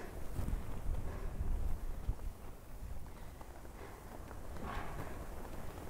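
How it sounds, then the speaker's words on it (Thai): Wind gusts buffet the microphone while mantra prayer flags flap at a stupa, a rough, fluttering rush that swells and eases, loudest early on with brief cloth snaps. "เสียงที่เราเห็นอยู่เนี่ยนะคะจะเป็นเสียงลมเสียงผ้าค่ะ"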